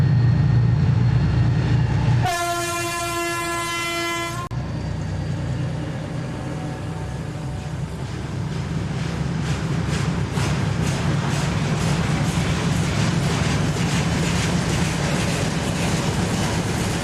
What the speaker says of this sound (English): a mighty 2 TE10 heads a 68-wagon oil train towards the port of Liepāja